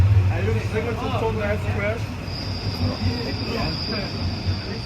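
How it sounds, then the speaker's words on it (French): On a Zurich street, a tram rolls past with a steady rumbling roll and a thin high wheel squeal, heard close under someone talking in French. "Regardez avec le tram, c'est marrant derrière."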